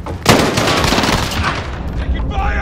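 Loud close automatic gunfire in a Call of Duty: Modern Warfare Hardpoint multiplayer match, a sharp burst onset followed by continuous rapid shots with overlapping battle noise.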